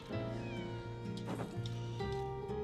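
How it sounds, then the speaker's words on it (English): A cat in the video game Lies of P gives a clear, close meow that rises and falls, over steady tonal background music. "Hi, kitty."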